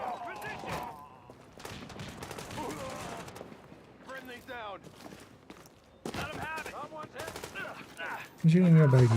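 Gunfire in The Division, a co-op third-person shooter: repeated bursts and single shots cracking at mid distance amid scattered footsteps and clatter, with a loud burst near the end.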